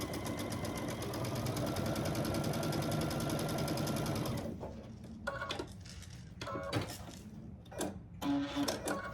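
Sewing machine stitching a 1/4 inch seam on a quilt block, running steadily and loudly with a fast rhythmic whir for about four seconds before stopping, followed by light handling clicks.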